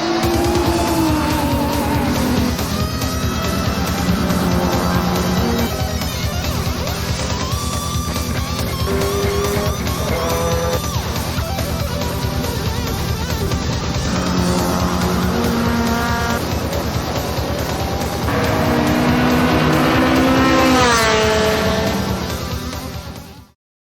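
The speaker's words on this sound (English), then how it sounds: "I'm here at a circuit today where a race is about to go on," Race cars at a circuit hosting underground-style racing, loud engines howling and shifting through rising and falling revs with tire squeal and skidding, sustained close and continuous with no talk.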